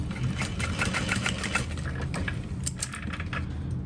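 Sewing machine basting a zipper onto a bag gusset, with a rapid mechanical stitching whir that runs steadily, slows near the end, and ends in a couple of sharp clicks, close and alone.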